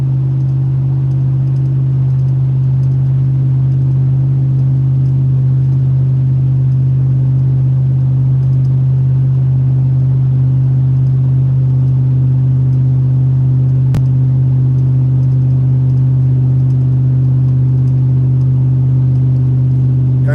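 A deep, steady truck engine rumble through a 3-inch stainless exhaust with cat delete drones low and constant, heavy and close, with one sharp click partway through.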